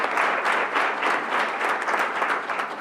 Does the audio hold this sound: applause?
yes